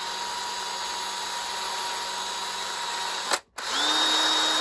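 Steady high whine of a small power drill spinning a tiny wire brush, used to clean 1:100 scale model hand rails; it runs continuously, cuts out briefly, then spins back up.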